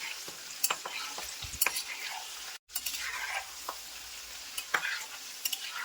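Fried fish pakoda is stirred in hot oil with curry leaves and green chillies, giving a steady sizzle with scattered scraping clicks and a brief drop near the middle.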